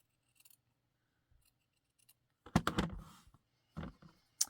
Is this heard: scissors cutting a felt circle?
yes